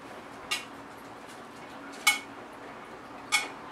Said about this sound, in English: I am going to stir this a little more because the syrup does tend to settle to the bottom.